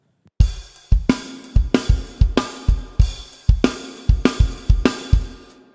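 A drum kit plays an outro beat, with loud, close bass drum and snare hits and crashing cymbals falling in a driving rock pattern, alone without talk.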